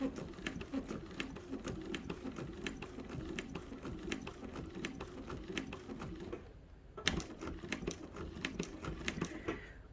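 A chain stitch embroidery sewing machine running in rapid, steady clatter as it stitches letters into fabric, pausing briefly before starting up again, fairly quiet and close.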